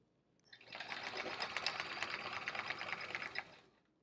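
A sewing machine runs for about three seconds of free-motion quilting on a chevron fill, a fast, even mechanical needle rattle that starts abruptly, holds a steady pace close by, then stops.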